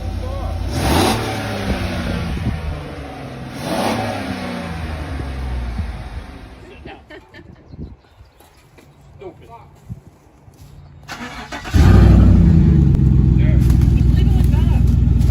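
A GMC/Chevy pickup truck engine revs up and down nearby through an aftermarket exhaust, then settles into a loud, steady exhaust drone that holds to the end.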